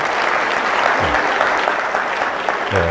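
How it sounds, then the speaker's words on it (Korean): Audience at a lecture on personal finance gives a steady burst of applause, dense clapping filling the whole stretch without letting up. "여러분 박수 한 번만 더 부탁드리겠습니다"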